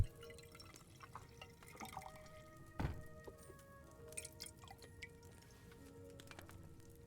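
A brewed potion is poured in the medieval video game Kingdom Come 2, giving soft, faint liquid trickles and drips with one sharper splash partway through, with no voices.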